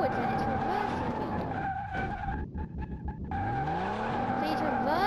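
Tires screech in a long continuous skid as a video game car drives and slides, with a steady engine drone underneath and a voice talking over it.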